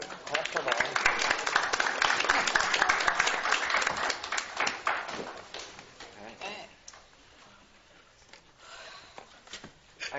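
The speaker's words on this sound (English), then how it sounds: "Clap for that." Audience applause at a Cuyahoga Falls City Schools board of education meeting, a dense wash of clapping that holds steady for about five seconds, then thins to scattered claps and room noise with faint murmuring.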